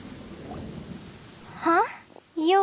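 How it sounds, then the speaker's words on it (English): Rain and rolling thunder in Genshin Impact, a steady wash of rainfall with a low rumble, then two bursts of a voice speaking over the storm. "What's a little thunder when even lightning wouldn't dare strike our path?"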